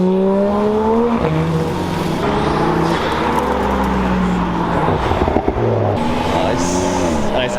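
A supercar accelerating at the Carburacoeur car show, with a loud close engine note rising and shifting through gears over several seconds, steady and continuous.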